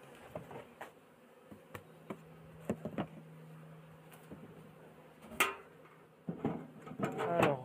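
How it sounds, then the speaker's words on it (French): A colony of black honeybees at a hive gives off a steady, low buzzing drone, with scattered clicks and handling knocks and a louder rustle near the middle and end. "voici pour cette deuxième colonie d'abeilles noires"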